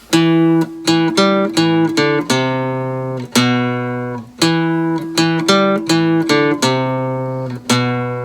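Plucked guitar notes played one at a time in a quick riff, each note ringing clearly and briefly before the next, loud and close with no voice.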